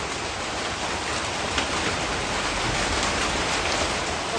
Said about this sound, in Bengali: চলে আসলো বৃষ্টি, বৃষ্টি হচ্ছে।